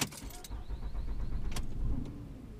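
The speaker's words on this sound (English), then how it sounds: "Turn the car on." A car being started with a key: keys jangle briefly near the mic, then an engine turns over and settles into a low idle inside the cabin, with a short click partway through.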